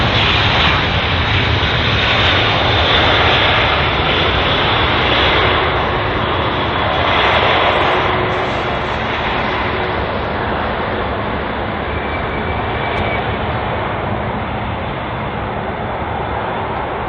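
Jet airliner engines at London Heathrow airport, a loud, steady broadband roar that swells slightly and holds throughout, close and continuous with no talking.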